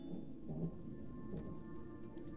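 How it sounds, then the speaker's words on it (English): Rain and rolling thunder from a video game, a steady downpour hiss with low rumbles running throughout, loud and continuous with no talking. "Is that rain?"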